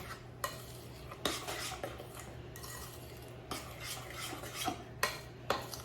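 A spoon working baking powder and baking soda into banana bread batter in a bowl, soft rubbing and stirring with intermittent clinks and scrapes against the bowl, fairly quiet over a low steady hum.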